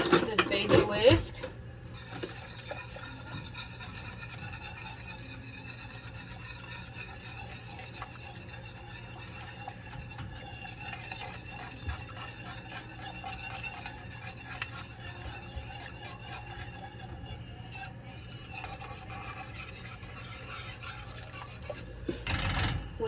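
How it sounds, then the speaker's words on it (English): Small baby whisk stirring sauce in a pan for a surf and turf pasta, a continuous scraping, rasping metal-on-pan rub, close and steady for over twenty seconds. "Whisk that all up."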